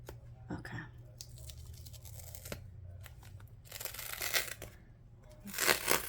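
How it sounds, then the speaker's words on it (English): Journal pages are torn out in several short ripping bursts, quiet and close, with soft rustling and handling noises between the tears. "I'm just gonna rip the whole thing off."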